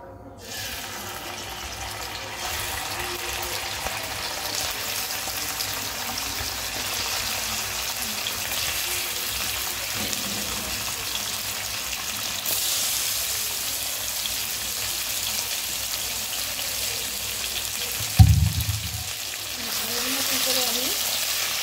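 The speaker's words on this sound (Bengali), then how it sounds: "চিকেনটাকে আমি একটু ফ্রাই করে নেব।" Chicken frying in oil in a pan, a steady, even sizzle hissing for the whole stretch, with a brief clatter near the end.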